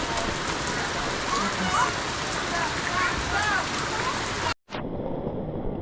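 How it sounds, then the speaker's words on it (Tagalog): Heavy rain pours steadily outside a home kitchen in the Philippines, a dense continuous wash of noise with no breaks, cutting out abruptly for a moment near the end before resuming. "lakas ng ulan eh"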